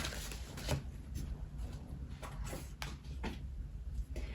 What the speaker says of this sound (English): Okay, the Fool fell out as I just gave it a little shuffle.